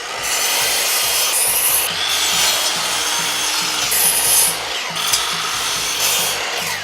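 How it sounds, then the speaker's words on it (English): Wooden boards being cut for a farmhouse ladder shelf with a miter saw, a steady loud rasping cut that runs continuously with slight surges and high whines at intervals, no voices. "cut your boards to the sizes I mentioned using your miter saw"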